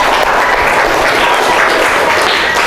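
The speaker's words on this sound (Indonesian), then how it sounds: "Ya, tepuk tangan." Students in a high school Islamic religious education class clap together, a dense burst of applause that fills the room and holds steady throughout.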